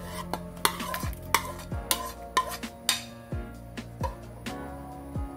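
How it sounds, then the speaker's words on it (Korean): Soy-sauce-marinated radish pieces dropped and stirred into a pot of boiling beef soup, a series of close clattering knocks and scrapes of a utensil against the pot, irregular and fairly loud, with no talk. "국간장으로 절인 무를 넣겠습니다."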